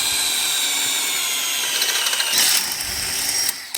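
A power drill whirs steadily as the bit bores into material, its pitch shifting as the cut bites, then it stops abruptly.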